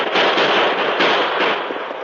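A dense, loud volley of gunfire from a 1950 Lone Ranger radio drama, with the shots blurring into a continuous crackling burst for about two seconds.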